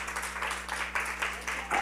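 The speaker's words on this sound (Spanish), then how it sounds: "denle un fuerte aplauso al Señor" A church congregation applauds during a Spanish-language service, scattered hand claps in an uneven rhythm, faint and somewhat distant over a low background hum.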